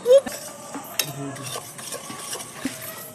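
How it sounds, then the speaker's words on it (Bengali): A spoon scrapes and clinks against a wok as semolina is roasted for halwa, giving a few short, close metallic strokes and taps in quick succession with no talk. "সুজিটাকে একটু লাল লাল করে ভাজতে হবে।"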